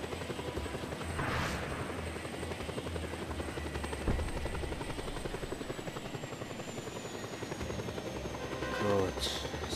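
Helicopter rotor and engine drone from the video game Just Cause 2, a steady continuous whir that holds through the whole stretch with a few brief louder bursts over it.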